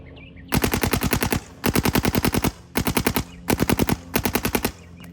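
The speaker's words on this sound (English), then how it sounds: "I switched over to the standard CS3 so you can hear how it sounds" Planet Eclipse CS3 paintball marker fires five rapid strings of shots, each burst a tight run of sharp pops separated by short gaps, loud and close with no talking.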